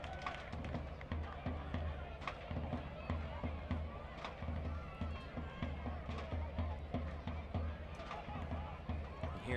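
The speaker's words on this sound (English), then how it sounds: "Hear the crowd drumming and chanting away." A stadium crowd at a Greenville Triumph versus Tormenta professional soccer match keeps up steady rhythmic drumming and chanting. The dense, continuous crowd noise runs throughout, with a low regular drumbeat underneath.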